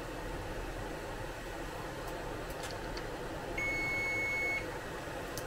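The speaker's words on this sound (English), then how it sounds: "That's my timer going off." A single steady electronic kitchen-timer beep holds for about a second over a constant background hiss and low hum.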